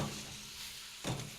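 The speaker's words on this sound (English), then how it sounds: "Now you can really start to hear that tomato sizzle." Blistering tomatoes sizzling in a pan alongside grilled broccoli, a soft, steady frying hiss with a brief louder burst near the end.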